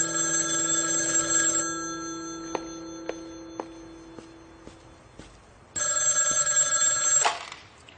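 A telephone rings alone indoors in two long electronic trill bursts, separated by a few faint ticking taps, then cuts off.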